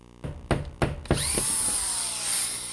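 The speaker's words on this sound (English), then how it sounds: "To make small adjustments, use an open screen rasp to take a little bit more off." An open screen rasp shaves the edge of a drywall panel: a few quick scraping strokes, then a sustained gritty rasping hiss that continues steadily to the end, close and fairly loud with no talking.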